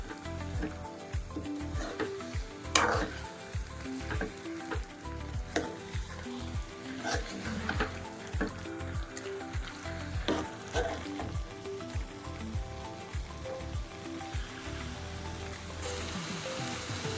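Chicken curry with coconut sizzling in a pan as it is stirred, with a soft steady bubbling hiss and regular scraping strokes, close but fairly quiet, with no speech.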